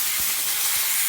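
Compressed air blasting dust out of a Ryzen 1700x AM4 prebuilt computer, a loud continuous close hiss with slight pulsing throughout.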